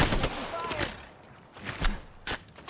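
Several sharp gunshots in the battle royale shooter Apex Legends, fired in short separated bursts over a quiet game background, moderately loud and close.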